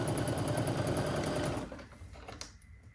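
A home sewing machine stitching quilt pieces gives a fast, even mechanical whir at close range for about a second and a half, then stops, leaving a few faint clicks and handling noises.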